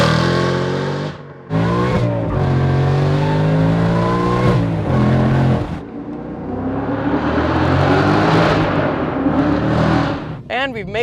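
An 800hp Saleen Mustang 302 accelerating hard, its loud engine roaring and climbing through gear changes close by, with brief breaks between pulls and people talking over it.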